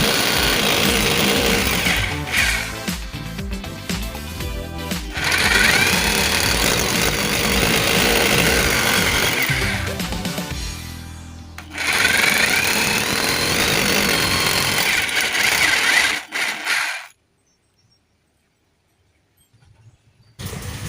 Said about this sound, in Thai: หลังจากนั้นก็ใช้สว่านเจาะตรงที่มาร์กไว้สามรูให้เรียบร้อย